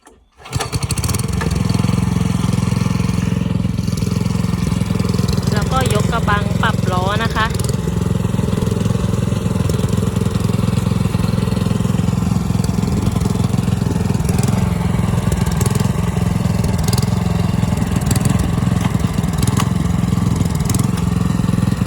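A Mametora G510L walk-behind tiller engine catches, then runs and revs loudly and steadily at close range, holding a constant drone with slight surges in pitch.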